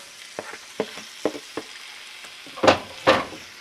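Kalamata olives and tomatoes are stirred in a pan with a spoon, giving several soft scrapes and wet shuffles, then two louder, fuller stirring sweeps near the end, all close by.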